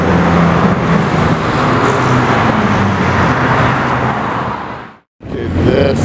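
A silver Ferrari F8 produces a loud, broad roar nearby, like a passing car amid road noise, cutting out briefly before resuming.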